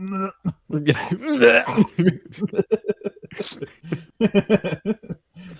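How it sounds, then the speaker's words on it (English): A close voice makes a drawn-out, exaggerated throat clearing, followed by short choppy vocal bursts and a few soft chuckles. "let me clear my throat."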